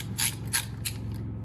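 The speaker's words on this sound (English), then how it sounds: "So let me grab my wrench." A ratchet wrench works on a clamp bolt of an International 574 tractor, giving three quick, close rasping clicks spaced evenly, with a fainter fourth trailing off over a low mechanical hum; no talk.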